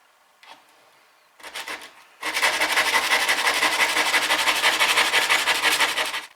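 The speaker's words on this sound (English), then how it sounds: "soon start to see that you're grinding a new surface on that bevel that's there already" A chisel's bevel is ground on a sharpening stone wheel: a couple of short scrapes, then a loud, steady rasping grind with a fast pulsing texture that runs on without a break.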